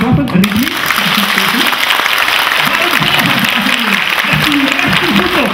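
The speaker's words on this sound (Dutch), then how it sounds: "En Zwarte Piet verdient heel vaak een daverend applaus." Loud, dense crowd applause fills a Sinterklaas festival, with steady hand clapping throughout and voices calling and talking over it.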